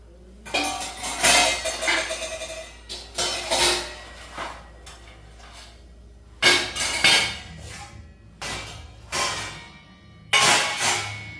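A pot of water for rice set down on a home kitchen stove, heard as several loud metallic clanks and clinks of pots and utensils in separate bursts, close by with no talking.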